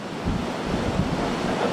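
A strong wind and rain storm lashes Pasay City, a steady roaring rush of gusting wind and heavy rain that holds at constant loudness, close and continuous with no voices.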